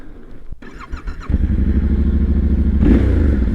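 Brand-new 2021 Yamaha Ténéré 700 motorcycle starting up, a brief starter clatter and cough followed by a steady close idle that swells into a short rev.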